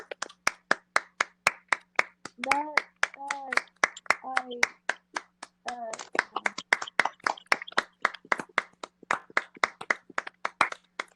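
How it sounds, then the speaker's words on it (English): Steady hand clapping for a standing ovation, sharp close claps in a quick uneven rhythm throughout, with a tonal voice-like sound rising briefly in the middle. "You can stop clapping now. Sorry, I gave a standing ovation."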